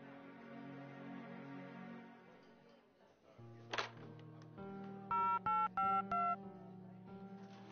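Telephone keypad tones from a scene in an Afghan film: a short run of four or five distinct beeps pressed in quick succession midway through, over a steady low hum and background tones, with no talking.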